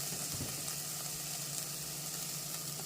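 Okra frying in a pan for ladyfinger curry gives a steady, close sizzle with soft crackle throughout, with no talking.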